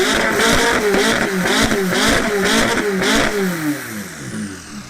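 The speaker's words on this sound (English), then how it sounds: "Your car is so loud. You want me to rev it?" A car engine revs hard several times close by, each loud rise and fall of pitch coming in quick succession before the engine settles back toward a lower, quieter idle.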